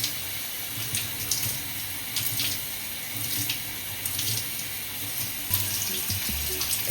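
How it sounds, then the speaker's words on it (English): Shower water running steadily, a continuous close hiss of spray with faint splashes as someone wets curly hair, no voices over it. "time to get in the shower"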